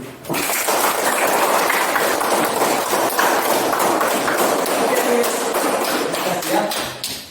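Schoolchildren in a classroom applaud together after a class presentation, a steady loud patter of many small hands clapping for several seconds, rising abruptly and tapering off near the end.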